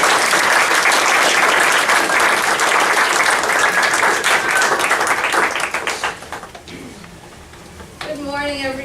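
Sustained audience applause rises as a panelist is greeted at a poetry lecture, dense and loud for several seconds before thinning out, with a voice starting to speak at the end.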